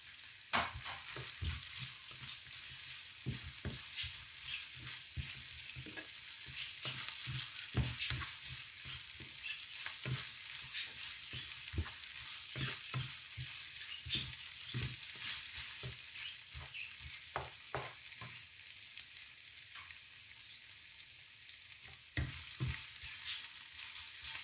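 Green peppers sizzle and fry in a pan while a utensil stirs them, giving a steady close crackle broken by frequent scraping strokes and no talk.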